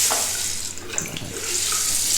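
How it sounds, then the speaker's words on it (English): Water runs steadily from a freshly repaired household tap, a continuous hissing splash heard alone at close range. "Yep, the water is back on"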